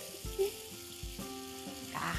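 Food pan-frying in oil gives a soft, continuous sizzle with a few brief clinks and bumps at the pan, fairly close and quiet, with no talk.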